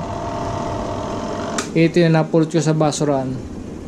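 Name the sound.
twin tub washing machine running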